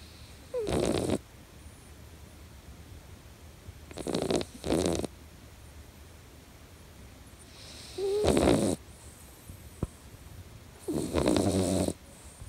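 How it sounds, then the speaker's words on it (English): A domestic cat snores loudly in four separate rumbling bursts, each lasting about a second, with quiet gaps between them in a still room. "my cat is snoring again very loudly"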